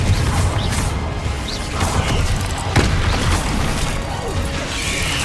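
Confringo explosive spell blasts in Hogwarts Legacy, dense loud crashing impacts and booms over a rumbling low-end battle din, with one sharper hit standing out midway.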